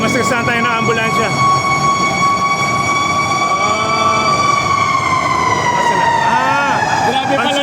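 An ambulance siren wails loudly and steadily throughout, its pitch sweeping and dipping as it passes close by on a busy street near the PNR, with traffic rumble and a voice underneath.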